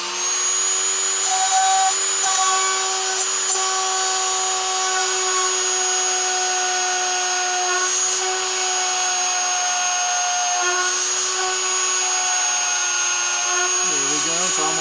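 A high, steady whine of a small drill boring through sea glass runs continuously, with slight pitch shifts as it cuts, loud and close.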